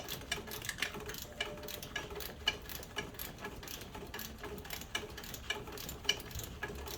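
Ratcheting clicks of a stubby wrench loosening bolts on the water pump of a GMC Savana/Chevy Express 3500 van with a 6.0L engine, a steady run of close, quick mechanical ticks with no talking.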